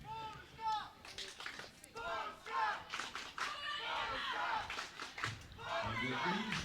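A crowd chants and cheers at an archery European Youth Cup event, rhythmic shouted voices rising and falling at moderate distance, mixed with lively crowd noise.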